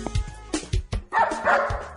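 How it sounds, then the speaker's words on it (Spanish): Loud, close dog barking comes in a rapid run of sharp barks and yips over about two seconds, with a low rumbling background beneath. "He dicho que no ladres más."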